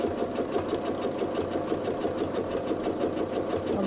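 A home sewing machine runs continuously while free-motion quilting, a fast, even mechanical stitching rhythm at close range, steady and unbroken with no voices.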